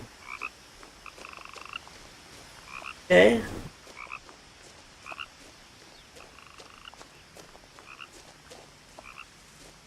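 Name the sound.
frogs croaking in the video game What Remains of Edith Finch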